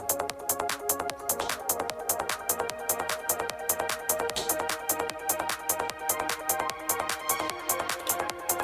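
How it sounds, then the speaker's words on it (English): Bright, trance-style supersaw synth lines from a modular live setup, with a dense, steady stream of rapid, evenly spaced notes over a sustained, full-bodied tone. The synth plays alone throughout at a moderate level. "I really like these trancy supersaw things going on"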